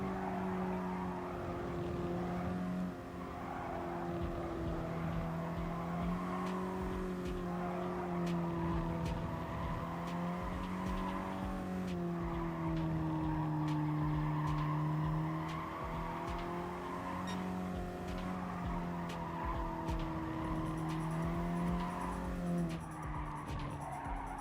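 Race car engine in the video game Gran Turismo Sport during a time trial, revving continuously with rising and falling pitch through gear shifts and corners, with tire squeal, loud and steady throughout, with no talk over it.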